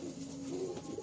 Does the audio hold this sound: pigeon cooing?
yes